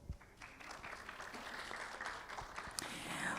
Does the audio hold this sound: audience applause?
yes